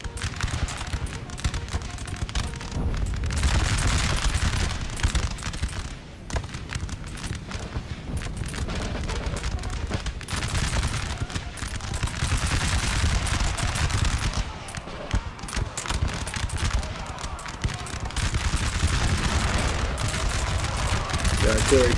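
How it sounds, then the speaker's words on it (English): Artillery and massed musket fire in a Napoleon Total War battle, dense continuous volleys and booming shots rolling on for the whole stretch, loud with brief dips between barrages. "The artillery coming in."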